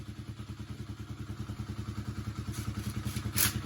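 A 2009 Kawasaki KLX250S motorcycle idles nearby with a steady, rapid thumping beat and a light mechanical clatter, holding an even rhythm throughout.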